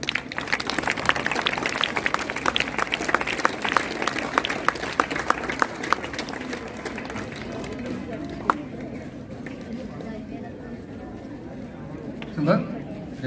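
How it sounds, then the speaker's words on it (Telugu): An audience at a mandal-level rangoli competition event claps together, a dense burst of applause that gradually thins and fades, with voices talking over and after it. "మరొకసారి చప్పట్లతోటి"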